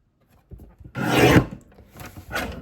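A paper trimmer slices through card stock in two strokes, a long rasping cut followed by a shorter one, close and clear with no talk.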